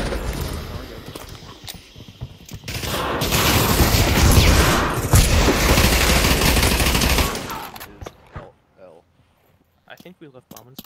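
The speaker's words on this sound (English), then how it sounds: "A nade, watch out." A grenade explosion and gunfire in the shooter game Pavlov: a dense roar of rapid automatic fire that builds and then cuts off, followed by quieter isolated shots, with players talking throughout.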